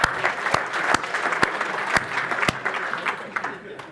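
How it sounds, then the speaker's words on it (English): A conference audience applauds at a tech talk, dense crowd clapping with a few sharp, loud individual claps standing out at regular intervals, fading slightly toward the end. "please give yourself a round of applause"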